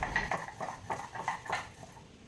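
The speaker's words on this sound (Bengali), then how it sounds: "একটু কালো সর্ষে একটু হলুদ সর্ষে কাঁচা লঙ্কা আর একটু নুন দিয়ে আগে সিলে বেটে নিই" Black and yellow mustard seeds, green chilli and salt being ground on a stone slab, giving a run of rhythmic, close scraping and knocking strokes at a moderate level, with no talk.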